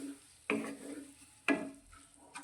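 A spoon scrapes masala and vegetables around a pan with oil and ghee for vegetable bajra khichdi: three distinct stirring strokes, close and fairly quiet, with a soft sizzle between them.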